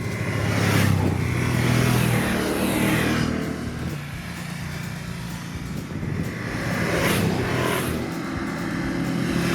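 BMW F750 GS and F850 GS motorcycles ride off near Granada, their engines a steady, fairly loud drone with two swells of revving as they pull away, with no talk.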